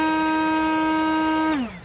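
A Ryobi cordless leaf blower's steady, high-pitched motor whine drones evenly, then winds down in pitch as the machine shuts off.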